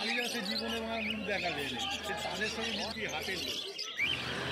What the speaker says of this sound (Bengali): এই খাঁচাটার মধ্যে দেখতে পাচ্ছি প্রচুর বেঙ্গলি ফিঞ্চ রয়েছে